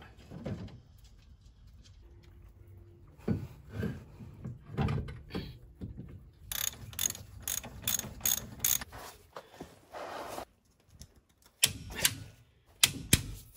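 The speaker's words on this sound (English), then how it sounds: "Trying to get these bolts out." Bolts on a Ford Transit lower ball joint are worked out with a hand ratchet, giving close bursts of rapid metallic clicking between pauses and softer clunks of tool handling.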